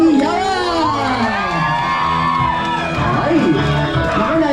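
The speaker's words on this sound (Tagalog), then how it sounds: "bigat si Best Friend Jollibee ng isang masigabang palakpakan na may kasamang hiyawan" A crowd at a 60th birthday party with a Jollibee mascot cheers loudly, with whoops, shrieks and children's shouts piling up in a bright, close, sustained roar of excited voices.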